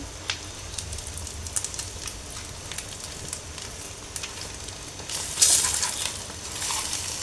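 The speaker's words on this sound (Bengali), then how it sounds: "তাই তো এটা হলো ডিম আমলেট করে নিচ্ছি।" Eggs frying in a pan for an omelette, a steady soft sizzle and hiss that swells louder near the end, with no voices.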